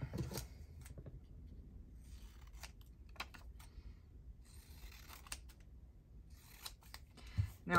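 Scissors snipping paper during a craft session, heard as faint, scattered crisp clicks and short cuts spread over several seconds against quiet room noise.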